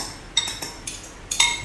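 A few close, light clinks and scrapes of utensils against a bowl while spicy noodles are mixed, five or so short bright taps spaced irregularly over a quiet background.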